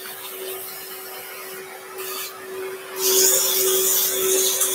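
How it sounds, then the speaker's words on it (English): Abrasive paper rubbing against a turned wooden box spinning on a lathe, a steady hissing scrape over the lathe's constant motor hum, growing louder and brighter toward the end as the abrasive works up the edge. "I can bend the abrasive, bring it out to the side, up the edge."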